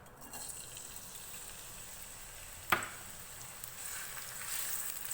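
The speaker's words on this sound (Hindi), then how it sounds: "ऑयल में इसको हल्का सा फ्राई करेंगे, बहुत ज़्यादा गोल्डन ब्राउन नहीं करेंगे।" Finely chopped medium onion lightly frying in hot oil for green chilli keema, a soft steady sizzle with one sharp clatter midway, quiet and close with no talking.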